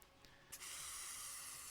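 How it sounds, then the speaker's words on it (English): Blood sprays from a neck wound in the Corpse Party: Book of Shadows video game: a loud, continuous hissing gush that bursts in after a brief quiet start and holds steady to the end. "Blood began spraying from the mark on the class rep's neck."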